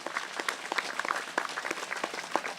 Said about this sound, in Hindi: तालियां बजाइए प्रभु के लिए।